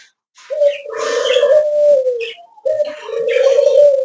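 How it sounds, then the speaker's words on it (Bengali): Caged doves, including ring-necked and other pet dove varieties, coo in two long, loud, close phrases of low rounded tones, with a short gap between them. "এখানে দেখুন চুইটাল ঘুঘু"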